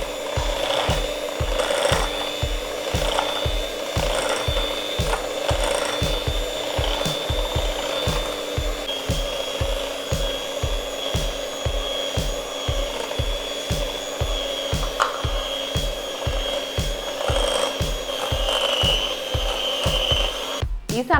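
Electric mixer beating sugar into sponge cake batter in a bowl, a steady motor whine with a regular rhythmic knocking throughout, moderately loud and close, without talk.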